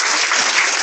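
A church congregation applauds and cheers during a deliverance service, a dense, steady wash of clapping that fills the whole short moment without a break.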